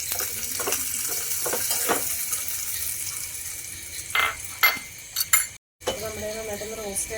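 Cashews, raisins and almonds fry in hot ghee for a quick parippu payasam, a steady sizzle with clinks and scrapes of a spoon in the pan, nearby and fairly quiet, with a short silent gap near the end.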